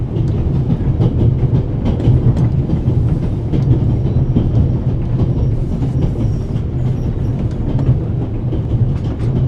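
The Orient Express train rolls along the rails in The Raven video game, a steady loud low rumble with faint rhythmic clatter of wheels throughout, no voices over it.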